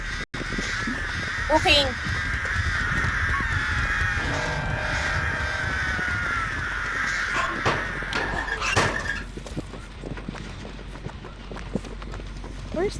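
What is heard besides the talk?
crows cawing in video game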